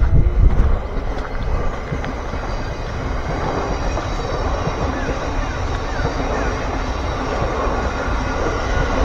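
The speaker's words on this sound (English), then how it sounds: "Train station nearby, Finsbury Park train station, which is a huge one as well." A train at Finsbury Park station in London rumbles steadily through, with a low continuous roll and faint wheel noise close by, holding even for the whole stretch with no voices.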